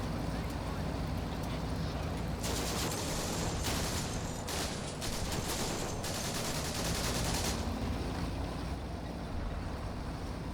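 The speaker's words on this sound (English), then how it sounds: "That is getting shot at by a lot of things." Heavy massed gunfire in the Combat Mission: Afrika Korps war game, a continuous crackling fusillade from many weapons lasting several seconds over a dense, roaring battle background.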